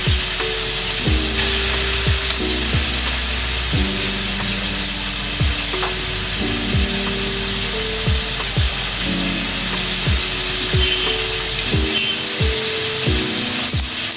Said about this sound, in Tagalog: Ayan, pagka-prito na yan guys, nagigisa na ako.